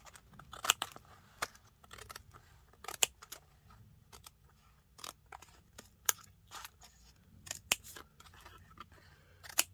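Scissors trim paper overhang from the edges of a collage book, a quiet run of sharp crisp snips and crunches in an irregular rhythm, close up, with nobody speaking.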